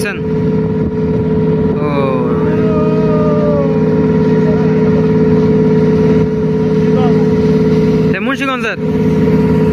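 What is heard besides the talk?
passenger launch (river ferry boat) approaching at speed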